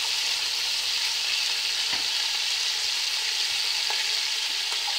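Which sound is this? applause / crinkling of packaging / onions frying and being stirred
onions frying and being stirred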